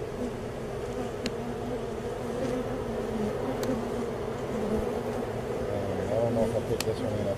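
A swarm of bees buzzing around a bird house fills the air with a steady, dense drone, close and continuous, with individual insects passing nearer at times.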